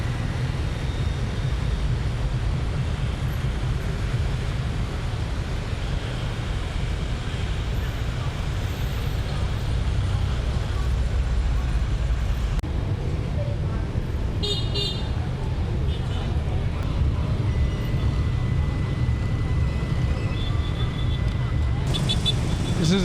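Dense traffic roars steadily through a Saigon intersection at night, with engines droning close by and scattered horn toots cutting through the continuous loud wash.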